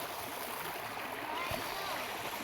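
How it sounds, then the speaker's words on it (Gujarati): Irrigation water runs through a farm field channel as a soft, steady rushing flow, faint and continuous with a small splash partway through. "રુદ્ર પાણી વાળવા માંડ્યો"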